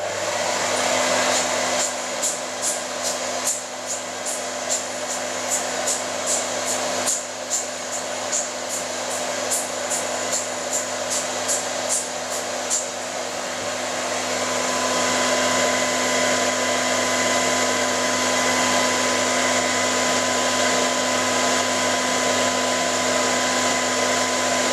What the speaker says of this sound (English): What I'm doing there is making sure I blow off any droplets of moisture, otherwise they'll leave rings